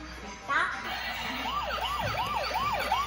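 Toy ambulance siren wails in a repeating rising-and-falling pattern, moderately loud and close, with a brief electronic chirp at the start and faint background voices.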